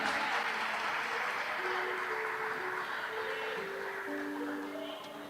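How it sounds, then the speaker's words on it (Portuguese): Steady applause from a church congregation, a dense wash of clapping that holds for several seconds and fades slightly at the end, with faint sustained tones underneath. "Vamos aplaudir o Senhor Jesus"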